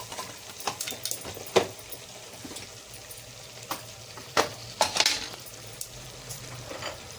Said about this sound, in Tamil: மட்டன் சுக்காவுக்கு எண்ணெய் ஊற்றி கொஞ்சம் சோம்பு போட்டுக்கலாம்